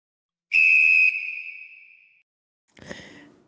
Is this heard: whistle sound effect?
yes